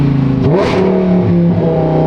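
A Lamborghini fitted with an F1-style exhaust blips on a downshift, a loud, close engine rev that sweeps up and then settles back, with no voices.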